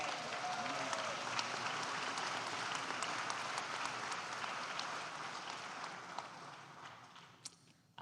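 Sustained audience applause for Ambassador Andrew Young at a Unity Day of Action gathering, a broad, steady clapping roar from a sizable crowd that slowly thins and dies away near the end.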